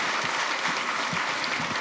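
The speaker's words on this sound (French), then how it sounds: "On peut l'applaudir très fort." Short burst of steady, dense audience applause at the close of an interview before a live public, evenly loud throughout.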